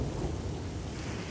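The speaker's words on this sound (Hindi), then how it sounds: "वाह, कितनी अच्छी बारिश हो रही है।" Heavy rain pours down with thunder, making a dense, loud, continuous roar with a deep low rumble underneath throughout the brief stretch.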